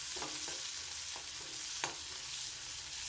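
Onion, garlic, green chillies and ginger frying together in a pan for onion dosa chutney, a soft, faint sizzle with a few light stirring clicks and scrapes, no voices.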